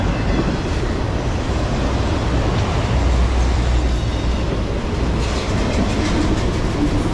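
A Norfolk Southern 11N freight train led by an AC44C6M locomotive, with a rear DPU shoving, rolls slowly past in a steady, loud, continuous rumble with faint wheel clatter and no talking.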